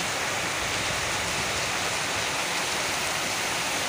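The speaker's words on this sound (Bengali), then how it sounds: "এদিকটা হচ্ছে ছাদের পানিটা নামতেছে প্রচুর পানি নামতেছে" Rainwater pours heavily off a roof in a continuous, dense rushing wash, close and steady throughout with no other sounds or voices.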